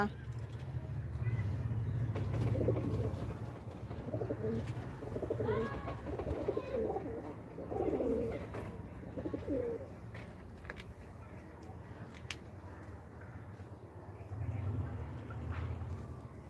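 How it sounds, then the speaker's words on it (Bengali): Pigeons at a rooftop pigeon house coo softly in low, rolling calls that come and go over steady outdoor rumble, with voices talking nearby. "এখানে পায়রার ঘর আছে অনেকটি পায়রা আছে"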